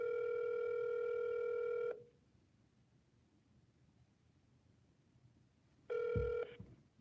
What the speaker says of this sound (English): So when the phone rings, I'm going to say hello